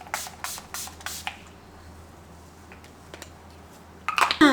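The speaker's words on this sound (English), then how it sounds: "I'm gonna use the Urban Decay All Nighter Makeup Setting Spray." Urban Decay All Nighter makeup setting spray misted in several quick bursts near the start, a few soft hisses, then a louder clattering burst near the end.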